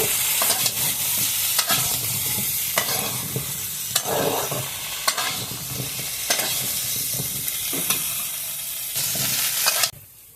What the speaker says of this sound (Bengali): এখন আলু আর পটলগুলো লাল লাল করে ভেজে নেব।